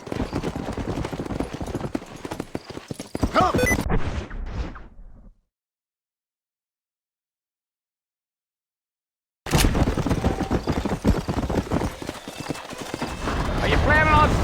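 A horse gallops in Red Dead Redemption, its rapid hoofbeats clopping under spoken dialogue, breaking off into silence for a few seconds before resuming loudly.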